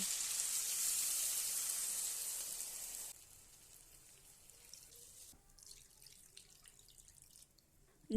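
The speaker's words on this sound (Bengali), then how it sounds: "আমি এর মধ্যে দিয়ে দিলাম তিন কাপ জল" Water is poured into a spiced bhetki fish curry gravy with potato and cauliflower: a steady bright rushing stream for about three seconds, then a quieter simmering hiss from the pan.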